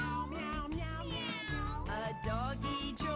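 Cat meowing repeatedly in drawn-out, rising and falling calls over roughly three seconds, close and fairly loud, set against a steady low musical backing during a children's yoga session.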